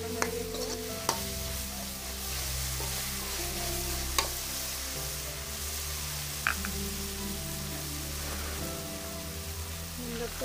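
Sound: spices sautéing in a pan for shrimp curry

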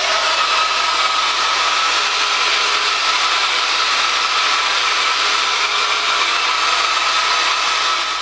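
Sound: rotating hair brush dryer blow-drying hair

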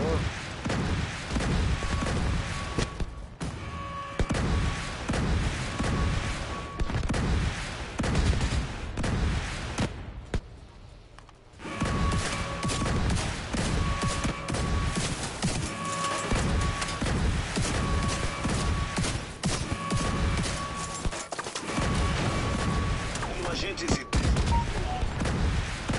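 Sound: gunfire in the video game The Division 2

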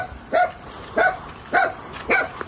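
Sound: small dog barking

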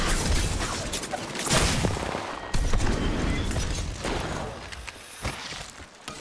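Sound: gunfire in the video game Apex Legends

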